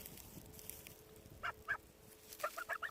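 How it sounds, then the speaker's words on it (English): Two large farm geese give short honking calls, a few soft, nasal bursts in quick succession near the end, fairly faint against a quiet outdoor background. "Our two little, oh no, not little anymore, two big geese"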